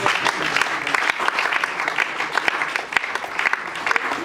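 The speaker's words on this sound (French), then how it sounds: "Applaudissez encore s'il vous plaît." Dense, energetic applause fills a conference hall, many hands clapping steadily at close range while a few voices murmur underneath.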